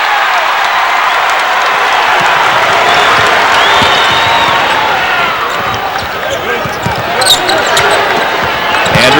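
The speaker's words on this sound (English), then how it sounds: "Bradley crowd on their feet, loud and proud here" A basketball arena crowd on its feet at a Bradley Braves versus Providence Friars NIT game, with loud, sustained cheering and roaring, sneaker squeaks and ball bounces, and a commentator talking over the din.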